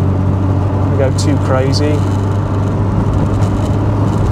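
Engine and road noise from an MK1 Citroen BX 16 driven along a muddy road, a steady low drone throughout with a brief voice speaking over it.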